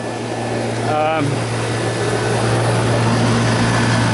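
The condenser fan motor of a York air conditioning unit with a 3/4 Hp motor runs in a steady, loud, close drone with a constant low hum, while someone talks briefly over it.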